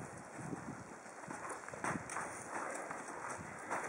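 A drum horse walking on a loose lead at a virtual horse show, its hooves clip-clopping in a steady, moderately close rhythm over constant wind-like background noise.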